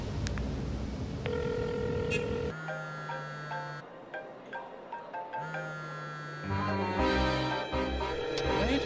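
An unanswered telephone rings in repeated electronic bursts with pauses between them, fairly loud and close, interleaved with other tonal electronic sounds and faint background noise.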